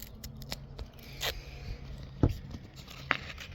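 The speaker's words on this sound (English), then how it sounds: "Just take my little razor knife and cut it" A small razor knife slices through a strip of sandpaper with a few short, crisp scraping cuts spread out over a few seconds, close and fairly quiet against a low room background.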